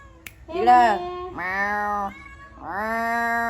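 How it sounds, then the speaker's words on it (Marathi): A cat meows three times close by, each call drawn out and tonal, the first rising and falling, the later ones longer and steadier. "आता आईची मांजर ती"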